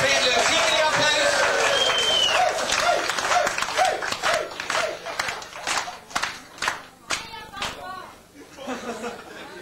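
Hotel guests at a 1986 Easter drinking contest in Ulsteinvik burst into loud applause, which then breaks into scattered claps, chatter and laughter and fades to separate claps toward the end.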